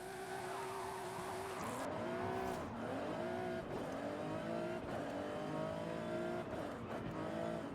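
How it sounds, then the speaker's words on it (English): A car engine revs hard and changes pitch repeatedly, accelerating and falling back as if shifting through gears, loud and continuous with no talk, matching a racing car from a Ford-focused building and racing game. "it definitely sounds better than what the stock engine, the old DBS has"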